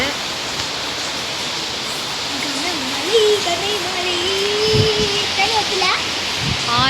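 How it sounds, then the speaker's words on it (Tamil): Steady, dense rush of heavy rain pouring down close by, with a voice-like tone drifting through the middle. "வந்து பாருங்கள், நல்ல மழை பெய்யுது"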